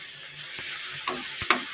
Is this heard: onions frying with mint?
yes